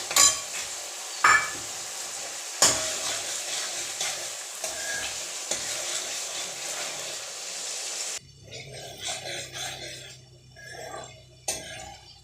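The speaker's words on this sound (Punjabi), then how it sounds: "ਹੁਣ ਇਹਦੇ ਵਿੱਚ ਐਡ ਕਰ ਲੈਣੇ ਆ ਅਦਰਕ ਤੇ ਹਰੀ ਮਿਰਚ ਇਹਨਾਂ ਨੂੰ ਵੀ ਨਾਲ ਪਕਾ ਲੈਣੇ" Onions, ginger and green chili fry in a pan with a constant hiss and sizzle, broken by a few clanks of utensils, then a quieter stretch of softer sizzling with faint rattles.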